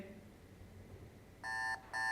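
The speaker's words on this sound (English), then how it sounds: "That's an alarm clock, isn't it?" An alarm clock sound effect from a soundboard gives two short electronic beep bursts, clear and fairly loud, following a quiet stretch of faint background.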